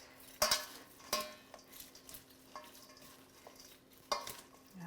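Kale and cabbage slaw being tossed with dressing in a bowl, giving a few sharp clinks and scraping stirs amid quieter rustling, close and moderately loud with no talking.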